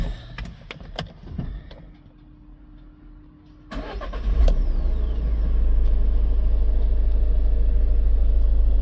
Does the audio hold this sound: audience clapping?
no